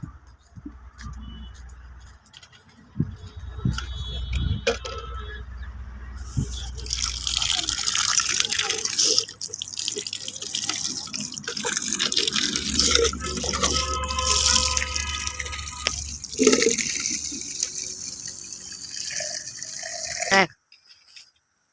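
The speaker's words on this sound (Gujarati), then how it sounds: "ભરતા અને પાણી નાખી દઈએ." Water pouring from a container into a bird water pot set out for birds, a steady splashing stream running for most of the span before stopping abruptly, with a few drips and knocks at the start.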